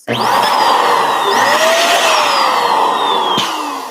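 An electric balloon pump inflates long curly twisting balloons in one continuous loud whine that shifts pitch as the balloon fills, then cuts off.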